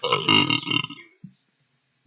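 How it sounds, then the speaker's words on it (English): A single loud, close burp during a casual beer-drinking tabletop game session, a long rumbling belch fading out, followed by a couple of faint short sounds. "That was a burp, but thank you."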